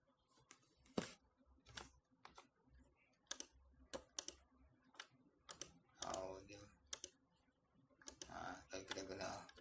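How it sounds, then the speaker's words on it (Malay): Computer keyboard keys tapped while using image-editing software, heard as sharp, irregular clicks, some single and some in quick bursts, close and fairly quiet over a soft room background. "Ataupun tekan S kat keyboard ya."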